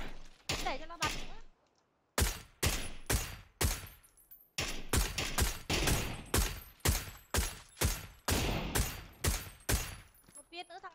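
Video game gunfire in rapid, loud bursts of sharp shots, first a quick cluster, then a brief silence, then a long string of evenly spaced heavy shots fired close up.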